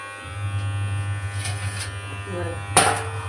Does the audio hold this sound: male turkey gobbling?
no